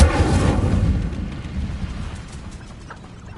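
Casting the Incendio fire spell in Hogwarts Legacy produces a sudden loud burst of flame with a heavy low whoosh. It fades gradually over a few seconds into a softer crackling rumble.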